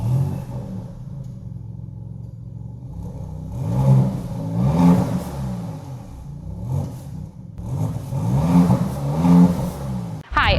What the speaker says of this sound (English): we're gonna hear what these exhausts sound like.